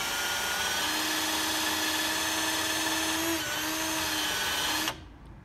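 A handheld rotary tool spins steadily at a high whine while polishing a glass eye with wadding polish, loud and close for about five seconds before cutting off abruptly.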